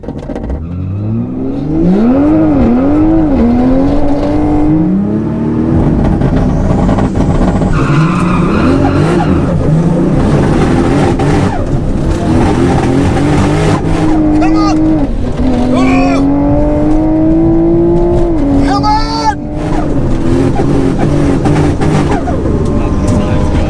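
Toyota Supra MK4 with 900 hp against a 760 hp MK5 GR Supra racing, engines revving and rising through gears with sliding pitch sweeps, loud and continuous, under occasional voices.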